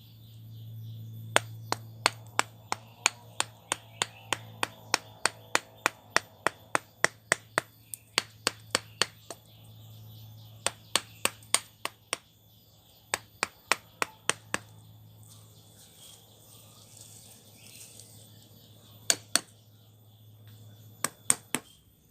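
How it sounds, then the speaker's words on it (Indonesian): Chisel blows cutting deep into the trunk wood of a ficus bonsai beside the roots, sharp taps in quick irregular bursts with short pauses, close and fairly faint over a low steady hum. "Jadi pahatan agak dalam, kayu kita hilangkan."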